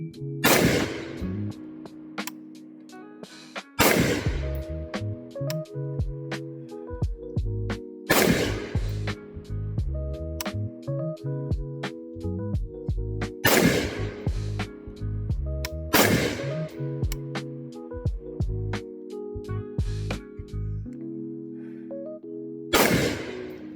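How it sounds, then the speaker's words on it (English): Precise, unsupported handgun shots fired standing at a 25 target during positional shooting drills: about six sharp, loud reports spaced a few seconds apart, with softer clatter and handling noise between them. "Unsupported, really precise shots from 25."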